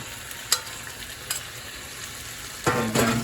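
Scallion, onion, garlic and scotch bonnet pepper frying in hot oil, a steady soft sizzle with a few sharp clinks of stirring and a louder burst of sizzling near the end.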